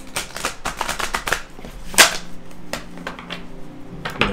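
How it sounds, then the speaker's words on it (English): Tarot cards being shuffled by hand during a reading, a run of dry riffling flutters and soft slaps with a sharper snap near the middle and another near the end, close and fairly quiet. "I'm going to shuffle that again."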